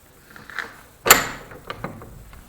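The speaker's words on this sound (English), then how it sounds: "Try this door." An old church door is tried by hand: a faint rattle of the latch, then a sharp wooden clunk as it gives, followed by a few quieter knocks in a hushed, echoing space.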